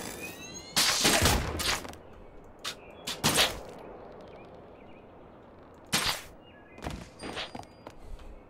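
Gunfire in the game Worlds Adrift, a few sharp loud bursts spaced irregularly, the first ones longer and clustered, then separate single reports, with no talking.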